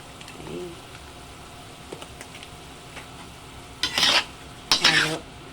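Chicken feet are stirred in a pan with oyster sauce, giving soft scraping and a faint sizzle, with two louder bursts of clattering stirring near the end.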